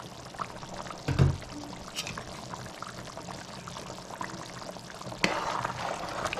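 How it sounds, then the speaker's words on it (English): Very hot water pours steadily into chicken curry, a soft continuous splashing with a brief louder burst early on and a fuller stream near the end. "we're gonna add some water. Some very, very hot water"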